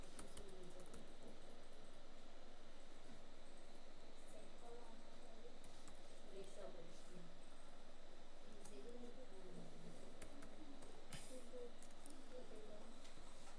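Someone types a font name on a computer keyboard, producing soft, quick, irregular key clicks close to the mic. The typing is quiet, with low background noise and a faint murmur of speech.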